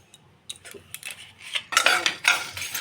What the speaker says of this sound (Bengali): আমি মশলাগুলো একটু ভেজে নেব